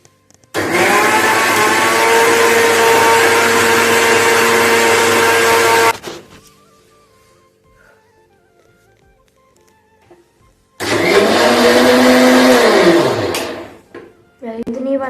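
An electric mixer grinder runs in a village kitchen, whirring loudly in one long burst, then stopping. After a quiet pause it starts again in a second burst that winds down toward the end.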